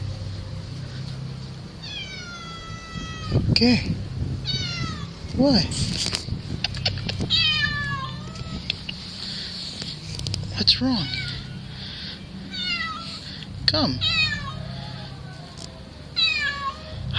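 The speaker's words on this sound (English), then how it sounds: "So I guess I'm gonna follow this cat and see where she wants to send me." A cat meows repeatedly, making several short, rising cries spaced across the clip, close by outdoors in a cemetery, while a person talks to it in between.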